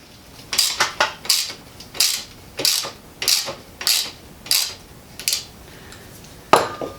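A ratchet loosening a nut on a rear leaf spring clamp of a 1940 Mercury sedan, about a dozen sharp clicking strokes in a steady rhythm, close and clear, with a final louder clack.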